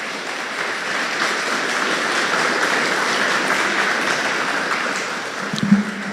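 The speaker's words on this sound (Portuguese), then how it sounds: "Vamos dar uma linda salva de palmas para Jesus" A church congregation applauding in praise during a Portuguese-language worship service, a steady dense wash of clapping that holds throughout at an even level, with a brief low thump near the end.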